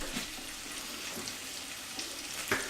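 Onions fry in a small, crowded pan for garlic and onion soup, a steady soft sizzle with faint stirring, close and continuous without talk.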